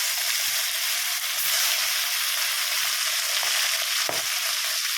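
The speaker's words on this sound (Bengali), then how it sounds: "মাছটা দিয়ে দিলাম, ভাজা হবে।" Fish sizzles in hot oil in a home kitchen, giving a loud, steady frying hiss that fills the whole moment, with faint low knocks underneath and no talking.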